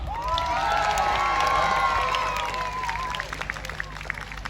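Crowd at a jousting tournament at Hampton Court Palace cheers loudly for the Knight of the Tower, a sustained mix of shouts and whoops from many voices, including children, swelling then thinning toward the end.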